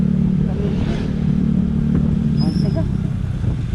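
Yamaha Mio scooter riding along a road in Nueva Ecija, a steady droning engine hum with wind rush throughout, while a person speaks briefly over it.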